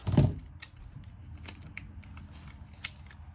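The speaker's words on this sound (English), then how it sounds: "I'm just holding these together and clipping the 2 tops of these." Paper craft tags being clipped together with small metal clips: a louder snap at the start, then scattered light clicks and taps close by, with no talking.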